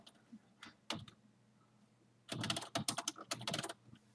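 Fingers typing a title on a computer keyboard: a few isolated keystrokes at first, then a dense burst of rapid clicking key presses, close and crisp, with no talking.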